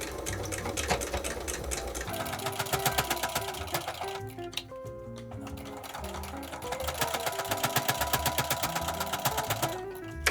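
A sewing machine stitches through thick insulated batting for a reversible bowl cozy, with a fast, steady needle clatter close by that pauses briefly midway and then resumes. No one speaks.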